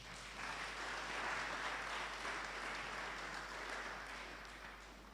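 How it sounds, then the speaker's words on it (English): A room full of guests at a company's 20-year anniversary celebration applauds in a steady, even round of clapping that rises and then slowly tapers, heard over a low hum. "Can we just clap for Impax?"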